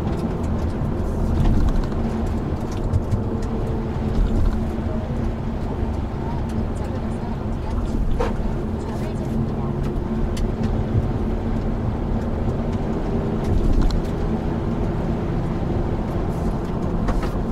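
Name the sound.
Hyundai Veloster N car driving in third gear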